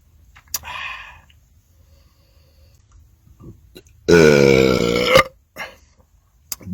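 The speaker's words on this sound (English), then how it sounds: "2 big belches, baby." Big belches after drinking Wild Cherry Pepsi: a short burp early on, then one long, loud, tonal belch lasting about a second, with quiet pauses and small clicks around them.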